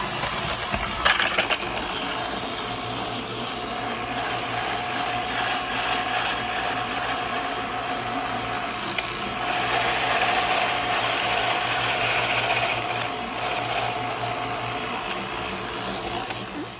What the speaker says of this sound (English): you're going to cut up the potatoes after they're peeled and washed, and the onion, and you're going to shred them